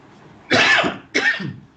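Two harsh coughs close to the mic, the first longer and the second shorter, with a brief pause between them and quiet around.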